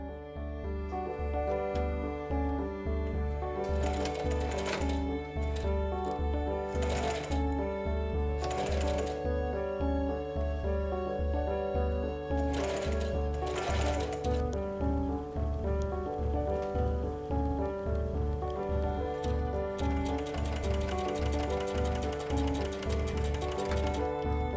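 A sewing machine stitches an overall pinafore dress in short repeated bursts of rapid mechanical ticking, heard under steady music with a few pauses between runs.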